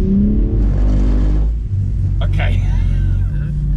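BMW car engine revving hard while drifting with traction control engaged, a loud sustained rumble that rises and falls, with a brief spoken word over it.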